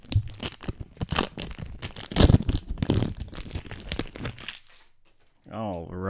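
A MetaZoo Mothman card pack is torn open close up with dense crinkling and ripping foil for about four seconds, then brief talk follows after a pause.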